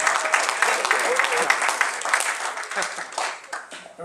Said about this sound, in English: big round of applause for Ace Squirrel.